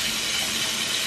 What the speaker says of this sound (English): I'm just going to pour some water and I'm just going to leave it to soak here